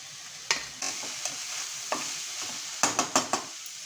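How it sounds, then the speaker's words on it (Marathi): Cabbage and other chopped vegetables, including carrot and capsicum, are stirred in an oiled pan for a veg potato frankie, with soft crackling and a handful of sharp spatula knocks and scrapes, quiet overall and without voices. "आणि ही कोबी ॲड करूया आपण"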